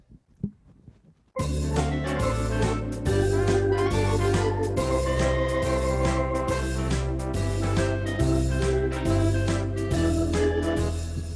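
A full orchestral backing enters after a brief quiet start, playing a steady song introduction with sustained strings and a rhythmic bass pulse throughout.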